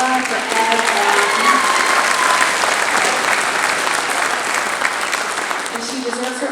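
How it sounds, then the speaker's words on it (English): An audience at a community chorus spring concert gives the instrumentalists a loud, sustained round of applause, thick continuous clapping with a voice speaking over it. "one more round of applause for Carla, for Ed"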